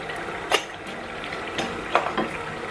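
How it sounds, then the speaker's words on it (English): Egg and tuna sauce being stirred in a pan after garam masala and curry powder go in: soft scraping strokes and a few sharp utensil clinks against the pan over a low steady sizzle, close and fairly quiet, no talking. "Just give it a stir."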